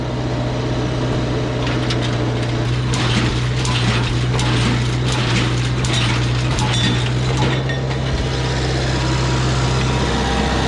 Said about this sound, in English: Can you engage that walking beam maybe?